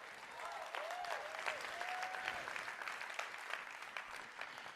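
A large convention audience at the 2023 ASEA Global Convention applauds in a sustained, even wash of clapping that carries through the whole stretch, with faint scattered whoops above it.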